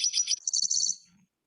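A wild bird in Nevada gives a very short, strong call from down in bushes, a quick burst of bright high chirps followed by a sharper trilled note, fairly close and alone in quiet surroundings.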